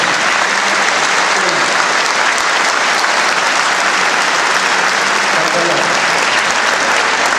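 A church audience claps in sustained, dense applause that stays loud and even throughout, a full room of hands with no break.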